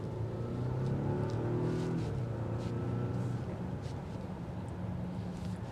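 A Volvo XC90 T8 plug-in hybrid's four-cylinder engine accelerates from inside the cabin, a steady moderate drone that rises and settles, with faint wind and road noise.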